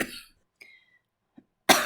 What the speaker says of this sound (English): of course I start the video off with a cough.